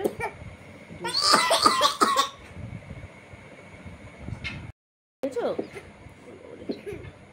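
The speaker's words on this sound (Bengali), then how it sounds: "কি কাশি!" A child coughs in a short, loud burst of several harsh coughs close by, then quieter sounds and brief speech follow, with a short silent gap.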